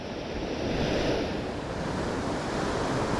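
A ferocious ocean swell breaks over a shallow reef at night, producing a loud, continuous roar of whitewater. Wind buffets the microphone throughout, and no voices are heard.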